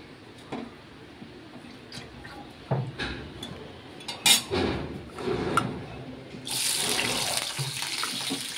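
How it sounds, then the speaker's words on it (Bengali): Carrots rinsed under a running kitchen tap, water splashing into a sink with a few soft knocks and squishes, then a steady louder stream of flowing water toward the end. "জল দিয়ে ভালো করে ধুয়ে নিচ্ছে গাজরটা"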